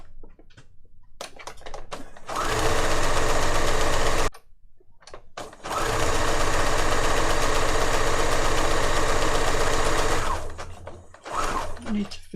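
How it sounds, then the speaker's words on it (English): A sewing machine stitches junk journal pages in two long, loud, rapid runs, each several seconds, separated by a short pause, with quieter handling clicks before and after. "I'm just going to sew these up"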